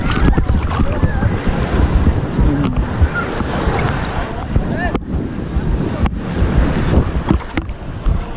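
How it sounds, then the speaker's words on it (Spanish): Ocean waves wash continuously onto a beach at dusk while strong wind buffets the microphone, a loud steady roar throughout. "gozando de la playa, la brisa y el mar"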